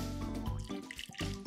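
Water is poured into a wet baking soda and dishwashing liquid mixture during a kids' fizzy planets experiment, giving faint close dripping and splashing sounds.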